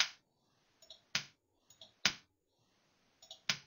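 A breadboard circuit driven by a Genie microcontroller output clicks repeatedly, sharp close clicks about once a second, each preceded by softer small ticks in a quiet room.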